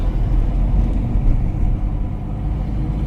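A car on a driving exam accelerates with a deep, steady engine rumble and road noise, loud and close from inside the cabin, with no voices.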